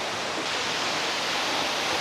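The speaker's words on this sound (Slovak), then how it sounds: "Za mňa pekný vodopád, musím povedať." A waterfall in lush surroundings roars as a steady, dense wash of rushing water, close and unbroken, with no voices.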